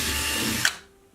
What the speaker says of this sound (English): drill right there